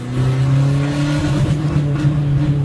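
An Isuzu D-Max 1.9 Blue Power pickup accelerates hard in second gear. The engine roars loud and close, its pitch climbing steadily, with no talking.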